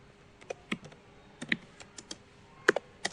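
Scattered keystrokes tap on a computer keyboard while writing code, sounding as quiet, irregular clicks close to the microphone, with short bursts and pauses.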